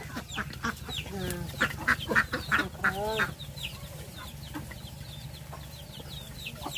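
Ducks returning to their shed at dusk quack in a quick, busy burst of calls, then quieter scattered calls over a steady outdoor background hum.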